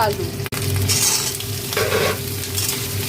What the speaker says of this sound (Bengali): তেলের মধ্যে পেঁয়াজ আর লঙ্কাটা একটু লাল লাল করে ভেজে নেব